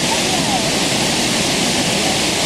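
Burney Falls, a 22-foot waterfall in California, roars as a steady, loud, continuous rush of broadband water noise with no break.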